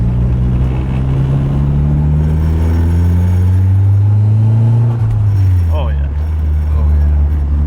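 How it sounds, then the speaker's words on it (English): A freshly rebuilt turbocharged SR20 engine in a Nissan 240SX runs in a loud, steady low drone with engine tones rising and falling as it accelerates, heard from inside the car. "I want to hear this turbo so bad."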